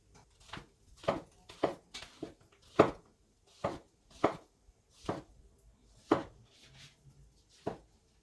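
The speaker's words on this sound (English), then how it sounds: "Now back at our cutting board, we'll begin slicing the mushrooms." A knife slices mushrooms on a cutting board in about a dozen crisp, evenly spaced chops. Each cut lands as a soft thud with a short click, close up and quiet, with no voices.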